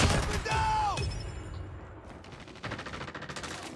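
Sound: AK-47 gunfire in a video game

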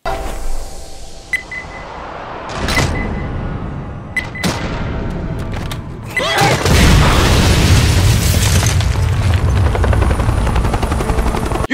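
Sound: helicopter flying overhead in Left 4 Dead video game

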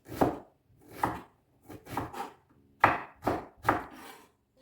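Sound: chopping onion with a knife

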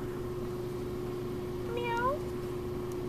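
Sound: cat meowing

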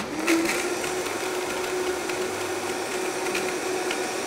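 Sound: blender grinding macadamia nuts with water into cream

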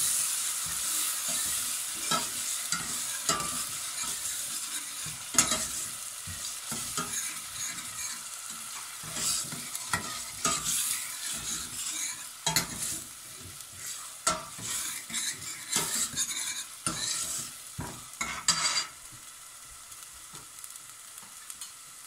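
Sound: green chili, garlic and ginger paste frying and stirred

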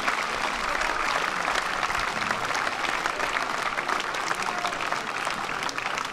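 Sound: applause

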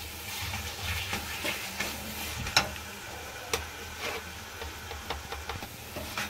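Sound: dum aloo masala frying in a pan

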